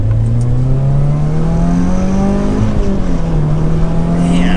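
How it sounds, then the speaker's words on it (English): A turbocharged Subaru BRZ accelerates hard in second gear, its engine droning loud and steady from inside the car as the pitch climbs, with a brief dip partway through. "All right, last acceleration. Feel out that turbo power in second gear."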